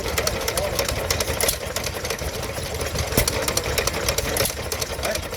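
A vintage stationary engine runs steadily at a Victorian-themed show in Llandudno, a continuous mechanical clatter with busy rhythmic ticking, close and fairly loud amid outdoor crowd noise and faint voices.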